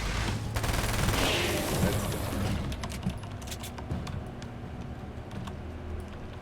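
Rapid video game gunfire rattles in a dense burst for the first few seconds, then thins into scattered sharp shots and clicks over a steady background rumble.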